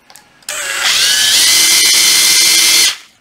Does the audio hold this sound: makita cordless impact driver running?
yes